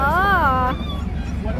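A dog at a busy pet market gives a single high, wavering whine or yelp that ends abruptly, followed by a dense murmur of crowd noise.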